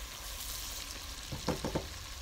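Laing, a dish of taro leaves, is stirred with salt in a pan, producing a soft, steady frying hiss that ends in a short cluster of three or four close scraping stirs.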